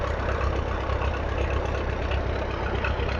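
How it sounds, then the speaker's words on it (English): An International Junior tractor engine runs in the background at a vintage machinery show, a steady, continuous low rumble at an even level with no speech. "the tractor in the background that you can hear I've just filmed is the International Junior"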